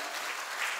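Brief burst of audience applause at a North Karnataka comedy show during a silver jubilee celebration: dense, steady clapping from a crowd that fills the short moment with no voices over it.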